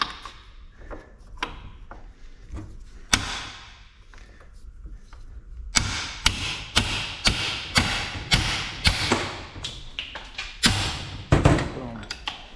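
A hammer knocks a U-joint out of a Jeep axle shaft yoke held in a vise: a few sparse, separated taps, then a steady run of about a dozen sharp, loud metallic strikes close to the microphone.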